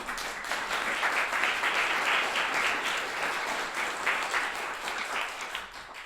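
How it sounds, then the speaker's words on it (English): Concert audience applauding steadily for the performers, a dense, sustained wash of clapping with no talk over it. "So maybe a little bit more well-deserved applause for Peter and Marvin."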